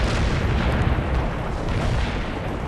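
Artillery strike explosions in the World in Conflict video game, a continuous heavy rumble of overlapping booms and blasts, loud and dense with no pauses and no speech.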